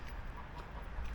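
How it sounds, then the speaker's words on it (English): A goose calls at Scarborough Mere, a natural lake, giving a few faint clucking honks over steady outdoor background noise. "goose there saying something to us"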